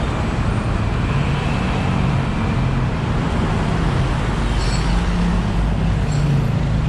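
An old bus at a bus station in On Nut, Bangkok, with a steady low engine rumble blending into continuous street traffic, constant in level and fairly close throughout, with no voices.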